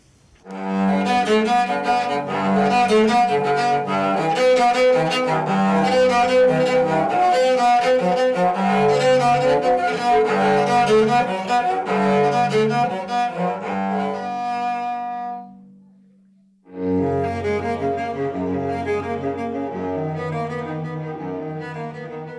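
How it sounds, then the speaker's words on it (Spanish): A homemade cello built from an oil can, discarded wood and old kitchen-utensil pegs plays a sustained, resonant melody for about fifteen seconds, fades, then resumes after a brief silence. "Este chelo está hecho de una lata de aceite, la madera tirada en la basura"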